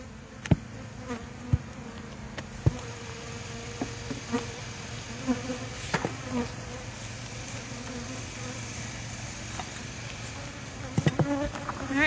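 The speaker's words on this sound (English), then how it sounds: "All the bees that are left in that box will fly in" Steady, low insect buzzing of honey bees around an open hive box fills the clip, with a few sharp knocks and taps scattered over the hum.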